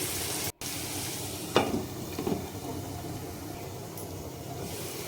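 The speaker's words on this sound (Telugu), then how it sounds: "అల్లం వెల్లుల్లి పేస్ట్ వేసిన తర్వాత పచ్చివాసన పోయే వరకు అయితే ఈ విధంగా కలుపుకోవాలి" Ginger-garlic paste frying in oil for a brinjal tomato curry gives a soft, steady sizzle with a couple of brief stirring scrapes, quiet and without voices.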